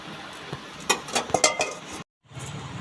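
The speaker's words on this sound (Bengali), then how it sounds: "আমি এটা চাপা দিয়ে দিচ্ছি ফোটা অবধি" A pot of dalia khichuri in a home kitchen is handled and covered with its lid after stirring: a few sharp metallic clinks and clanks, close and fairly loud, over a low room hiss, with a brief silent gap near the end.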